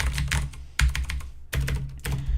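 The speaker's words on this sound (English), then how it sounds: "Now, this keyboard is very tactile." Loud, close tactile clicking from a Das Keyboard Model S Professional, bursts of rapid keystrokes separated by brief pauses, crisp and dominant with no speech.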